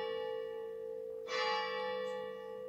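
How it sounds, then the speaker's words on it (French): A church bell rings the eight o'clock hour, with a sustained resonant tone and lingering overtones and one fresh strike partway through, heard from some distance. "Ah, là, les cloches qui recommencent."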